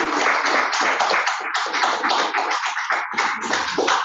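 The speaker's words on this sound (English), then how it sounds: "A big round of applause." Applause at a hybrid Zoom anniversary meeting of a speaking club, a dense continuous round of clapping from several people, heard close and steady throughout.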